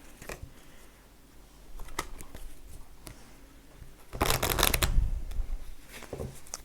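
Oracle des miroirs oracle cards being shuffled close by, with scattered soft flicks and taps, then a louder, denser burst of riffling shuffle a little past the midpoint.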